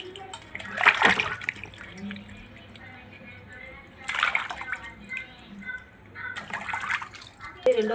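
Chapala fish being washed by hand in water for pulusu, with intermittent bursts of splashing and sloshing close by, separated by quieter dripping stretches, while a person talks over it.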